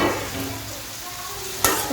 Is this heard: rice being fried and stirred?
yes